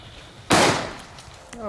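A heavy Italian firecracker explodes in a single loud, close bang that rings out and fades, followed by a brief voice.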